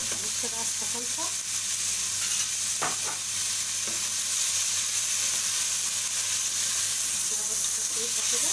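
Sauce being stirred in a frying pan for Cantonese-style Chinese noodles, with ketchup and plenty of spices: a continuous sizzle and hiss with a few scraping spoon strokes, moderately close, under no talk.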